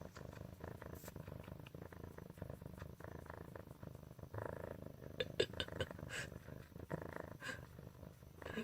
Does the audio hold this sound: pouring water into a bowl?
no